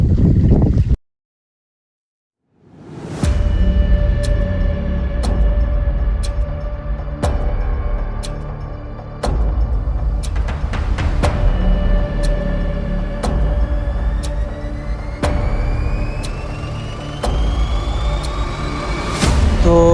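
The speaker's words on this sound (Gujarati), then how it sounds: "હવે અહીંયા કાકાના ખેતરમાં ટ્રેક્ટર હાલે અત્યારે" A tractor runs in a farm field. The engine starts after a brief silence and then drones steadily and loudly with sharp periodic clatters, its pitch rising toward the end, and no one speaks.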